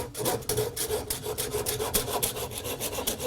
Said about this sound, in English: take the same Sureform tool, and all this is like a giant cheese grater here